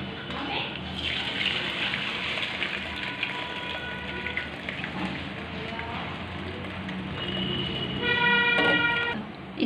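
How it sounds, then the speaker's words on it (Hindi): Boiled pasta is strained in a home kitchen, a steady rush of water pouring and draining through a strainer for several seconds, growing a bit louder near the end, with background kitchen noise. "देखिए इसको छान लेते हैं पास्ता को।"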